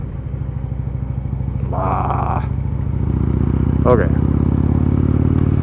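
Road traffic heard from a moving motorcycle: a constant, close engine rumble with wind and passing-vehicle noise building slightly over a few seconds, and a rider speaking briefly over it.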